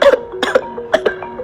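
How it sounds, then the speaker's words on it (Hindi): A woman coughs in a short burst of several harsh, close coughs, staged as a sound effect in a Hindi audio drama, with no talking over it. "सक्षम की बात सुनकर मानसी को खांसी आ गई।"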